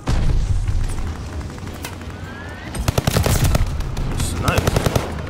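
Rapid automatic fire from the Atomic Automaton gun in a video game, loud bursts of repeated shots with booming impacts, heavier and denser in the second half over constant game background noise.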